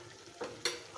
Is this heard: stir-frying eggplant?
yes